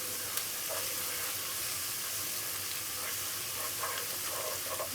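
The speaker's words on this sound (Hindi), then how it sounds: "लहसुन अदरक फ्राई हो गया है" Crushed ginger and garlic fry in a pan, a soft, steady sizzling hiss at low level with faint scattered crackles and no speech.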